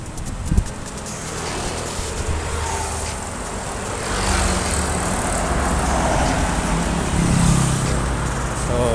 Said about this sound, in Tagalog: ang dami ng mga sasakyan